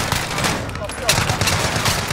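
Rapid automatic gunfire in Call of Duty Warzone Resurgence, dense continuous bursts close and loud with game ambience underneath, mixed with players' voice chat.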